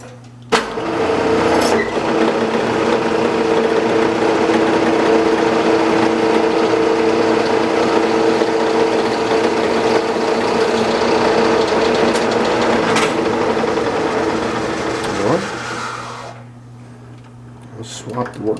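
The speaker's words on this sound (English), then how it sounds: "Gonna throw a nice chamfer on that edge" A milling machine on power feed cutting a chamfer along a metal workpiece edge gives a steady, loud, close whine and cutting hum that holds for about fifteen seconds before winding down, with a voice talking over it.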